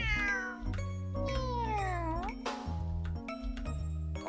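A cat gives a long, drawn-out meow that slides down in pitch, heard over a steady musical tone bed with no talk.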